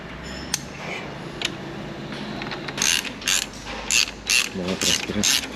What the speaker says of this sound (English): now we have tightened up the bolts